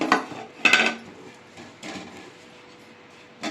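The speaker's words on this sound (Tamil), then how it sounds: "வெள்ளரை கீரை சேர்த்துட்டு நல்லா வறுத்துக்கலாம்" Vallarai greens being roasted and stirred in a pan for idli podi, giving a few clattering scrapes and knocks of a utensil against the pan, loudest near the start, with quieter rustling in between.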